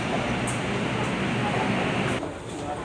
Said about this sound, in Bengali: এখন যাবে ট্রেনটা সল্ট লেক।